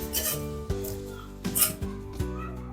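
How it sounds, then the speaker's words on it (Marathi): Steamed rice flour dough is scraped out into a large steel plate in a kitchen, giving a few soft rasping scrapes and dull metallic knocks spaced about half a second apart. The sounds are quiet and close, with no talk. "मोठं स्टीलचं ताट घेतलेलं आहे आणि त्या ताटामध्ये आता आपल्याला ही उकड ताटामध्ये ओतून घ्यायची आहे"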